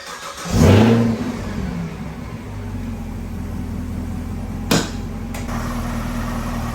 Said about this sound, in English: see if we can actually hear that supercharger whine from out here